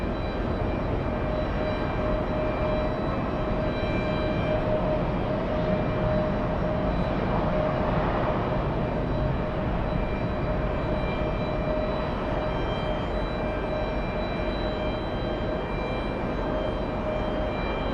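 An Emirates airliner taxiing at a busy airport gives a steady, loud engine roar with a constant whine, unbroken for the whole stretch with no voices.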